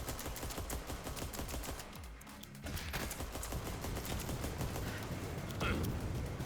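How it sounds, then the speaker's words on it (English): An enemy fires rockets in the fast-paced FPS roguelike Galactic Vault, a sustained barrage of loud, rapid blasts and impacts that rolls on without a break, with a brief dip midway. "That guy is shooting rockets at me, bro."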